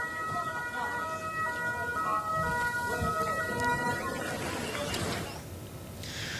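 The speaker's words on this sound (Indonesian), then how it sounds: "Sirine peringatan serangan udara berbunyi lebih dari 15 kali di seluruh wilayah itu" A steady wailing air raid warning siren sounds through background noise for several seconds, then fades as a rushing noise takes over.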